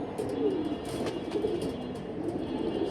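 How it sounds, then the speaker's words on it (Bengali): A pair of large hammer-line pigeons, male and female, coo nearby in soft, rolling phrases, repeated low calls over a light steady background noise. "এক পেয়ার হ্যামার লাইনের কবুতর"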